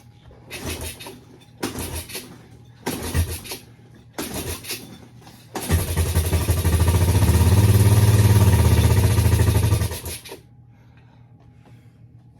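An LT185 lawn tractor engine cranks in four short bursts, then catches and runs loudly for about four seconds before cutting out, close by.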